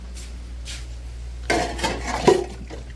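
Cooking pots and utensils from making aloo gobhi are gathered and set away in a home kitchen, a few clinks and clatters of metal vessels bunched in the second half, close by and without talking.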